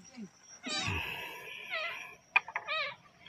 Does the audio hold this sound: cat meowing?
yes